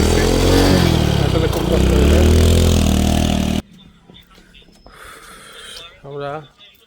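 A motorcycle rides along a rural road with a loud, continuous engine and wind rumble for about three and a half seconds. It then cuts off abruptly, leaving quieter background sounds and voices.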